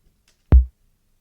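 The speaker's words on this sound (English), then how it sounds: "That kick is from a Roland 606 drum machine." A single punchy kick drum hit from a Roland 606 drum machine sample, short and deep with a clicky attack, heavily distorted, limited and compressed, standing alone in silence.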